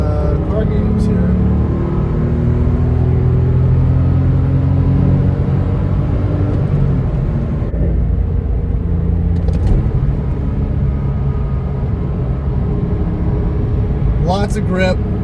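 Porsche 997.1 engine dropped into third gear and wound out on a wet highway on-ramp, a loud steady interior engine rumble with traffic around, while someone talks throughout.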